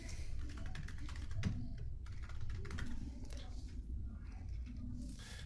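A customer name is typed on a computer keyboard in a steady patter of quick key clicks that runs throughout at moderate, close volume, with no talk.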